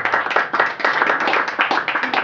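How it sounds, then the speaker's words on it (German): An audience at a dialect poetry slam in a small Viennese venue claps steadily and densely, many hands close together in a lively continuous round with no voices. "Erst einmal klatschen."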